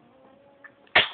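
A single sharp sneeze bursts out close and loud near the end after a quiet, breathy stretch, with a faint small sound just before it.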